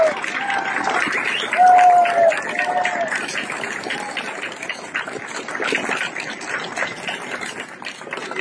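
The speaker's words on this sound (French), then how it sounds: "J'aimerais qu'on applaudisse très fort Maître Brusa" An outdoor crowd at a political speech in a Strasbourg park applauds, a scattered, moderately loud clapping that swells briefly, with voices and cheers mixed in.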